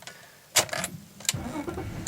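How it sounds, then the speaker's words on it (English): A BMW E39 5 Series car engine cranks in short bursts and then catches, settling into a low running rumble close by. "So we're just starting the engine there."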